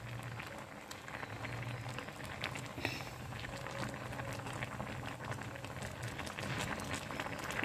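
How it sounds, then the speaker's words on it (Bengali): Whole tomatoes with salt and green chillies boiling in a pot for a tomato dish, giving a steady, close bubbling and popping hiss that holds throughout with no talk. "তো আমি এখানে গোটা টমেটো সেদ্ধ করে নিচ্ছি ভালো করে।"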